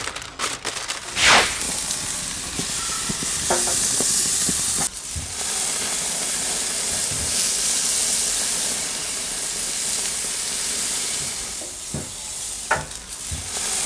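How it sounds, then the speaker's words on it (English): Beef côte de boeuf sizzles and hisses loudly and continuously while searing on a grill at 300 degrees C, with occasional clanks and scrapes of utensils; no talking. "Just listen to that sizzle."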